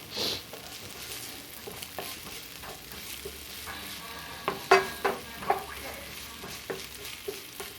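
Onions frying in oil that wasn't preheated, with soft scattered sizzling under stirring and a few louder clatters of a utensil against the pan, fairly close and moderate in level.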